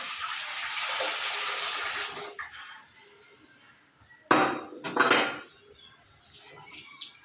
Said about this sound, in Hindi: चलो अंदर पानी डालते हैं और देखते हैं क्या ये नल परफेक्टली चल रहा है।